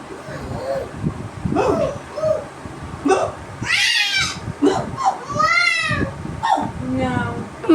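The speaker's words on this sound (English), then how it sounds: "Meow meow" A cat meows a few times, drawn-out and rising, mixed in with people talking nearby.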